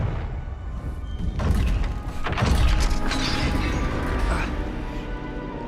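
A Confringo blasting spell explodes in Hogwarts Legacy, with a heavy crash and thud followed by scattered debris and rumbling that fade over several seconds, close and loud.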